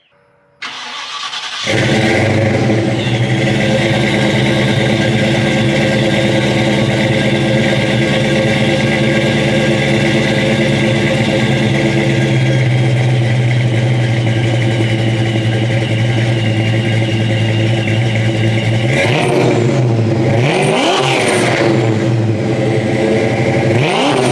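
Supercharged Ford Mustang Foxbody with SVE heads, S-trim blower and B-cam, running 2.5-inch Jones full-bore mufflers and tailpipes, fires up and idles loudly and steadily, then blips into a couple of sharp revs near the end, with no talking.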